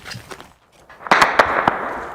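Close gunfire in urban street fighting between an army and a paramilitary force: sharp cracks, a few soft pops, then a louder run of bursts near the end, with no voices.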